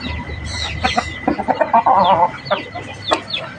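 Gamecock clucking at a fighting-rooster farm, a run of short clucks and calls close by, with faint farm background throughout.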